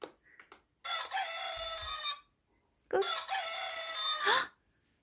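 A baby toy plays two loud rooster crows one after the other, bright and electronic-sounding, with a short silence between them and a few clicks before.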